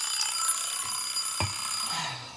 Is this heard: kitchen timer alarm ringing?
yes